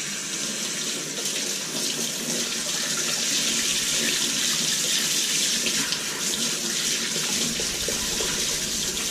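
A steady jet of tap water rinses debris from the roots of a phalaenopsis orchid being repotted, a continuous close splashing rush that runs on without pause.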